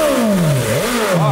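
A BMW S1000 motorcycle with oil put into its exhaust revs loudly and close by, the engine pitch falling, dipping and rising again in one continuous, aggressive blip.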